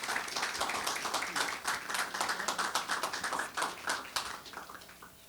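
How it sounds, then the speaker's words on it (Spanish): Applause from a seminar audience on project management, a dense patter of many hands clapping steadily for about five seconds before thinning slightly at the end. "Démosle un aplauso fuerte, por favor."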